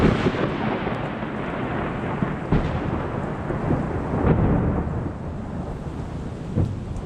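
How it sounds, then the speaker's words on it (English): Heavy rain falls steadily while deep thunder rolls and rumbles through a storm, loud and continuous, with a few sharper cracks and swells and no voices. "Wow, that was some serious thunder."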